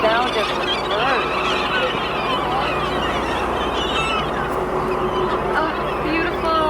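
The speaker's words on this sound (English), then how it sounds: "Sound of the bird." Seabirds call near a whale-watching boat on open water, their honking, gull-like cries repeating over steady engine and wind noise while people talk excitedly throughout.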